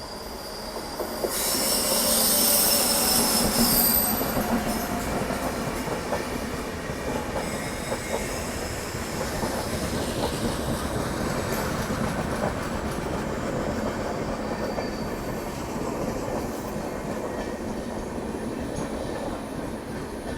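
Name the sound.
Hampi Express train arriving at station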